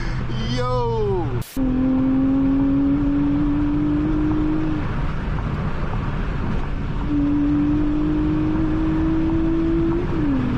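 A Honda Accord V6 six-speed coupe from the J32 generation revs hard and climbs through gears, its engine note rising and dropping from inside the cabin, while occupants talk excitedly over the drive.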